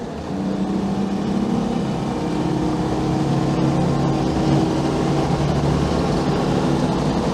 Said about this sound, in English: Obviously the wind noise is building up because we've got the roof off, so there's a fair bit of wind around.